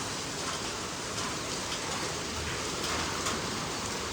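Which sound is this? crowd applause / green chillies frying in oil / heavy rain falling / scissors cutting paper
heavy rain falling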